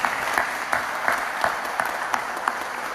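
Steady applause from a crowd, dense clapping with a few sharper claps poking out at a regular pace, loud and close.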